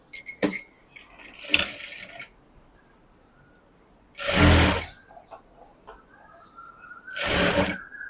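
A sewing machine stitches a folded blouse seam in three close, loud whirring runs of about half a second to a second, separated by quieter clicks and handling sounds, with no talking.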